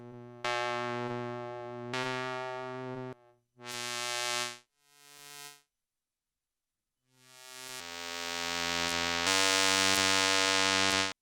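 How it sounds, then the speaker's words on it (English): Ring-modulated saw wave from oscillator 2 of the BEAST synth, harsh and scrapey with dense high harmonics, sounding as several sustained tones with gaps between them. It is loud and close, with no talking. "So now oscillator 2, the saw wave sounds like this when I ring mod."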